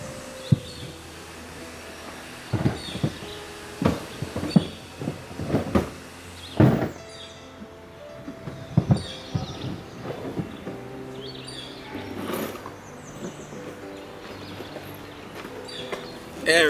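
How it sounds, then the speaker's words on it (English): Metal tools and screws clatter and clunk as someone rummages through a toolbox outdoors at a trailer park, in irregular bursts of knocks and rattles, close and fairly loud, with occasional speech. "let's see what I got in the toolbox"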